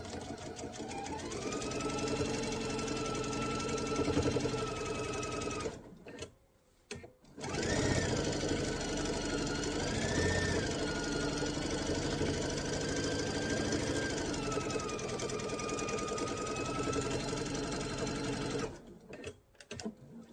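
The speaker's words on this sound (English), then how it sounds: "We're just going to do an edge stitch across this bottom." A sewing machine runs steadily, edge stitching across the bottom of a mesh tote bag, close and loud in two long runs separated by a brief pause, with another short stop near the end.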